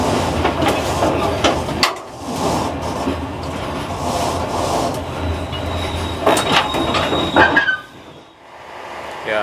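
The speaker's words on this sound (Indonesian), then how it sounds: "Kereta api Progo sekarang sudah sampai stasiun Ijo, bersilang dengan kereta api gaya baru malam" The Progo passenger train crosses the Gaya Baru Malam train at Ijo station in Indonesia: loud, close rumbling and clattering wheels with brief squeals, fading near the end, and no talking.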